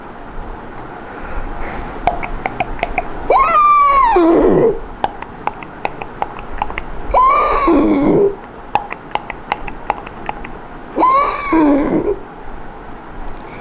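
A man imitates a horse with his voice: three loud whinnying neighs with falling pitch, spaced a few seconds apart, over a faint steady background with sharp clicking accents.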